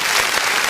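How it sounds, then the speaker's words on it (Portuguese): A church congregation at a family worship service claps together in a brief, dense burst of steady applause filling the room. "Vamos aplaudir o nome do Senhor Jesus."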